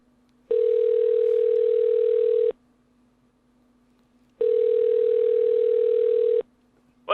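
Telephone ringback while calling Kyle, two long steady electronic tones about two seconds each, separated by a pause of similar length, loud and alone over a faint hum.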